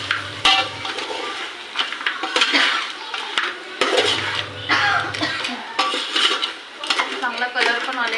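Crab curry masala frying in released oil in a pan, stirred with a metal utensil, giving loud repeated clanks and scrapes over a bubbling sizzle, close by, with a low hum in two short stretches.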